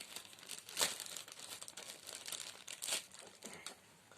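A Realme 2 Pro smartphone is pulled from its plastic wrapping, giving close, quiet crinkling and rustling with a few sharper crackles.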